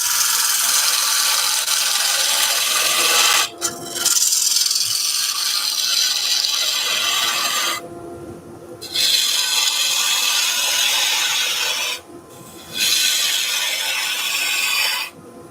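A bowl gouge shaves an epoxy resin vase cast with pencil crayons as it spins on a lathe, giving a loud, steady scraping hiss that cuts out briefly three times as the tool lifts away.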